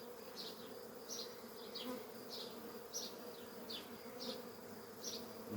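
Honey bees buzz in an open hive, a faint, steady hum with soft individual wingbeats drifting in and out close by.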